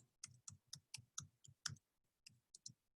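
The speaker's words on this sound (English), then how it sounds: "I'm typing fast" Rapid, irregular clicking of keys, close and faint, in quick bursts with a brief pause partway through.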